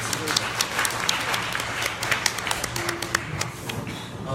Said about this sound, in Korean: 다 발표해주신 분들께 다시 한번 큰 박수를 드리겠습니다